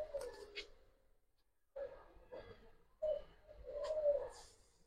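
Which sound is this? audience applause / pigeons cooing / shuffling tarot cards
pigeons cooing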